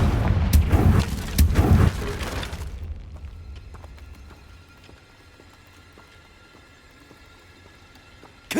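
Confringo and Bombarda spell explosions in Hogwarts Legacy: a loud, crackling burst of booming blasts for about two seconds, then a faint low rumble with scattered small debris clicks, and a sudden hit at the very end.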